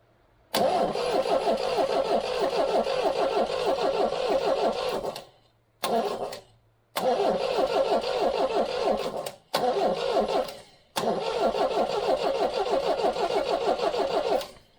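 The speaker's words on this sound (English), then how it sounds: "you can see down here the starter motor is struggling a bit" A 1969 MGB's starter motor cranks the engine sluggishly in several long bursts separated by short pauses, a labored, rhythmic churning close up with no catch or start.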